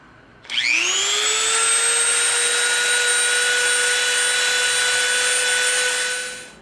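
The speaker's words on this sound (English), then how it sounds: "We rounded our corner off with the Dremel." A Dremel rotary tool with a smooth bit grinds the corner of a piece of EVA foam, spinning up sharply into a loud, steady high-pitched whine that holds for several seconds before tapering off at the end.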